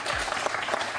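A studio audience on a French quiz show applauds a contestant in a short, dense burst of clapping at moderate level, with no talking.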